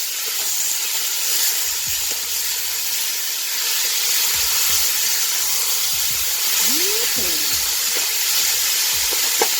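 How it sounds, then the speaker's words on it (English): Meat browning in a hot pan without added oil for a Moroccan-style dish gives a loud, steady sizzle and hiss throughout, with occasional low knocks of stirring. "I'm gonna kick it off with browning the meat."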